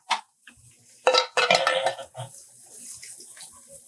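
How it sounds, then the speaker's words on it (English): Cooked pasta, a one-pound box, drained in a kitchen sink as part of a creamy seafood pasta dish: a brief splash and clatter of pot and water, with intermittent clanks and a softer trickle trailing off. "So we're going to drain it in the sink."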